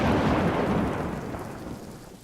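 Cartoon rain pours down with a low thunder rumble, loud at first and fading over a couple of seconds, with no talk over it.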